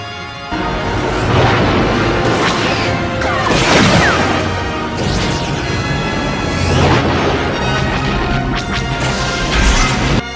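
Torpedoes are fired and explode on a reactor core in a game, a loud sustained roar with repeated heavy crashing blasts and whooshes throughout.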